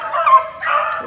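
Four-month-old puppies yelp and bark after chasing a rabbit, two close, high, whining bursts in quick succession with no talking.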